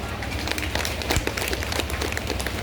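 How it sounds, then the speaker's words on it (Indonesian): Crowd applause at a high school farewell ceremony for graduating twelfth-graders, a dense, steady patter of many hands clapping throughout, loud and close. "Kasih aplaus Bapak dan Ibu."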